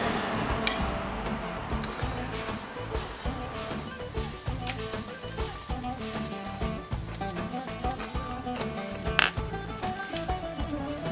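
Glasses clink together in a toast at a festive home meal where beef kontosouvli is cooked, a few bright chinks rising over steady background clatter and low room noise.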